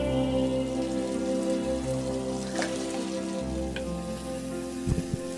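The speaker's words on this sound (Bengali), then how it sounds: "এখন আমি এতে ভেজে রাখা মাংসগুলোও দিয়ে দিব।" Fried broiler chicken pieces added to a pan of potatoes sizzle steadily, a dense crackling hiss with a constant low hum beneath and a few louder clatters near the end.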